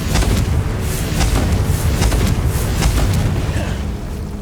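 Confringo fire spell cast repeatedly in Hogwarts Legacy, a dense run of loud booming blasts and crackling bursts that blur into one another over a steady rumble.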